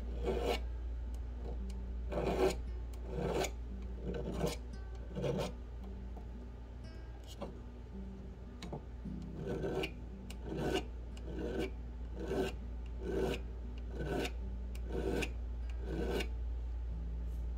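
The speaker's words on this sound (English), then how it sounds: "I'm just coming in and filing" Hand file rasping on wire while making a wire-wrapped charm ring, a series of close, crisp back-and-forth strokes in an uneven rhythm, with a low steady hum underneath.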